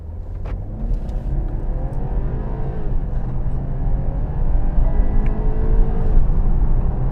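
A BMW 530i in sport mode accelerates hard, its engine and road noise building into a steady, loud, rising drone throughout with no talking.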